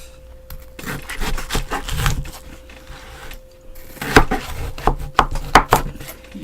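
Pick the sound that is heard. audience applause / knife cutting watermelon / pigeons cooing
knife cutting watermelon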